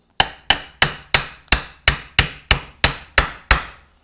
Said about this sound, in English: grab out of the right drawer a brass hammer, and we're going to push it through